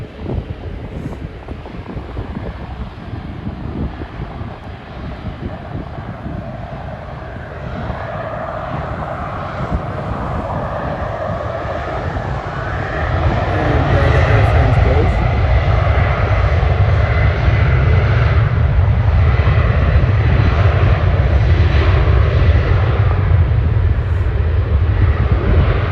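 An airliner at Schiphol airport passing overhead, its jet engine roar building from a distant whine into a loud, broad rumble that holds steady, with wind buffeting the microphone.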